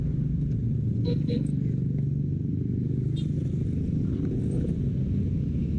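A motorcycle engine runs at a steady idle after a spark plug with a loose, stripped thread was forced back into place. The close, continuous rumble holds evenly throughout, with faint background voices.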